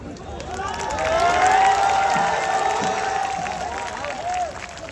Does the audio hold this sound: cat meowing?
no